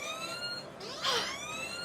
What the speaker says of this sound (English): That's the jackpot alarm.